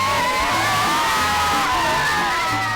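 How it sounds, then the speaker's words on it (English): A crowd of about fifty children cheers and shouts in Egypt, a loud, steady clamour of overlapping high voices that carries on without a break. "there's like 50 kids around us that are cheering"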